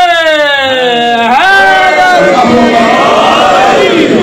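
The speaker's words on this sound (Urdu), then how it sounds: "سب مل کے نعرے" A Shia majlis congregation gathered for a Muharram sermon chants slogans in unison, a loud, sustained wall of massed voices rising together and swelling, with a lone voice leading in at the start.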